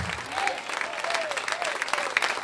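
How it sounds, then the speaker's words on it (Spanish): A church congregation breaks into loud applause, a dense crackle of many clapping hands with scattered shouts and voices mixed in, sustained across the moment. "Dele un fuerte aplauso al Cristo de la gloria."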